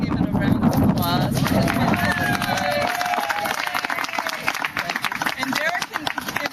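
Outdoor crowd at a mural dedication in a market setting breaks into sustained applause and clapping, loud and steady for several seconds with some chatter mixed in, thinning slightly toward the end.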